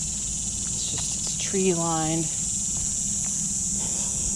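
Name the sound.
cicadas in tree-lined campus corridor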